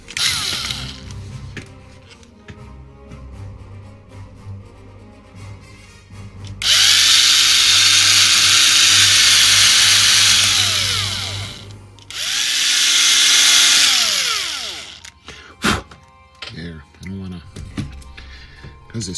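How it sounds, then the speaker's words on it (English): A small power drill whirs in two bursts on a 1:1400 scale plastic model kit, rising and falling in pitch, between stretches of quiet talk and light handling clicks. "let's see if we can use a drill."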